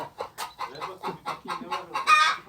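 Chickens cluck in a quick, rhythmic series of short bursts, close by in a muddy village yard, ending with a louder squawk.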